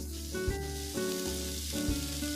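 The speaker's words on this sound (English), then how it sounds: "We'll toast them right in the frying pan." Walnuts and miso sizzling in a frying pan, a close, steady frying hiss with a few soft stirring knocks from utensils, no voices.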